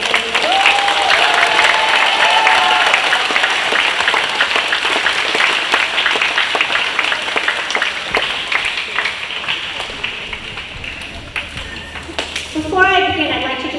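A school crowd at a birthday celebration claps and cheers for its seniors, loud sustained applause with whistles that slowly tapers off, followed by a brief sweep of musical tones near the end.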